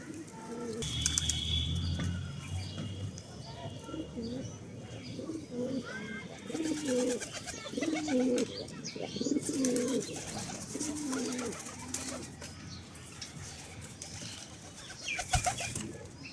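Pigeons coo in low, repeated rolling phrases at close range in a loft with one hen and two cocks, the soft calls overlapping steadily with faint rustling and occasional chirps throughout.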